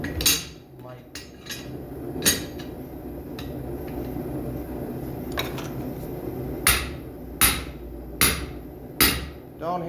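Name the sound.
hammering on cast iron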